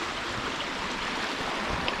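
Rippling stream water along a hiking trail on the Bruce Trail in Iroquoia, a steady broadband wash of flowing water heard close and continuous with no talk.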